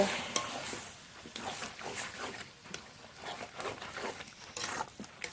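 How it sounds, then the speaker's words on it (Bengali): Spiced country duck meat is stirred in an oily pan, with scraping and clinking of a utensil over a soft sizzle in an uneven rhythm, close and moderately quiet. "মশলা মাখানো মাংস দিয়ে দেবো। এবার খুব ভালো করে নেড়ে নেব।"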